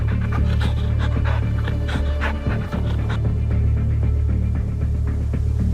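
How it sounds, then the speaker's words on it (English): African wild dogs pant rapidly and continuously over a low throbbing hum, close and fairly loud with no voices. "African wild dogs."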